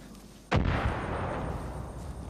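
A single loud gunshot from Far Cry 5 cracks about half a second in, followed by a long rumbling echo that sustains to the end.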